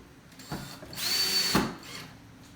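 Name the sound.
power drill driving screws into a DIY bench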